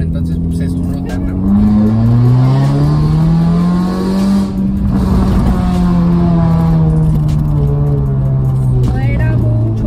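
A modified car's throaty engine revs and drones loudly up close, pitch rising and falling steadily over several seconds.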